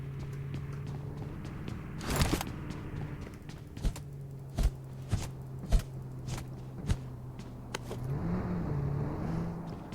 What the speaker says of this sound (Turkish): Araba geldi.